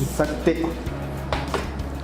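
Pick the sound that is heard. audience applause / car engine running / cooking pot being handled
cooking pot being handled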